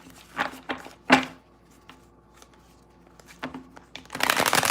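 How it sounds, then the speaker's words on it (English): A tarot deck is handled and shuffled nearby: a few soft riffles and taps, a quieter stretch of light clicks, then a sustained louder shuffle at the end. "Just shuffling the cards here."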